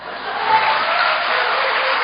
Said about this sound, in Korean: 박수 치는 거.